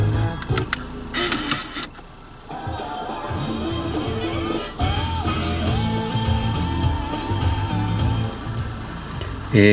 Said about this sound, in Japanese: 今カセットテープの音が出てます